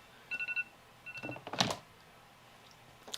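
A phone alarm goes off with a quick run of four bright electronic beeps, then a second cluster of tones and a louder burst, all close and clear over a quiet room.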